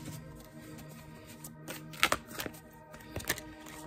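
Tarot cards being shuffled close up, a few crisp riffling slaps and flicks against a quiet background, with no voices.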